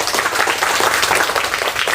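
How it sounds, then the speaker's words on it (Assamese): Schoolchildren in a classroom clapping their hands for a classmate, a dense, steady patter of many small hands filling the whole moment, fairly loud and close, with no talk. "মাহসানা বেগমৰ কাৰণে চবে হাত চাপৰি দিয়াচোন"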